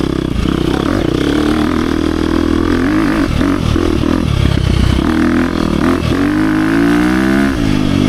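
A 2023 KTM 350 XC-F Factory Edition four-stroke dirt bike is ridden up close, its loud engine rising and falling through revs with clattering, scraping bursts midway as the throttle works on and off.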